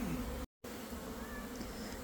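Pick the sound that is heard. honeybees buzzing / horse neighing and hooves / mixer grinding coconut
honeybees buzzing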